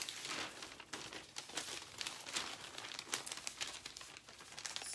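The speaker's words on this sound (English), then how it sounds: "you make a little triangle, you fold it over, and then you fold it again" Newspaper crinkles and rustles steadily while being folded into a small triangle and folded over again, sounding close and continuous throughout with no talking.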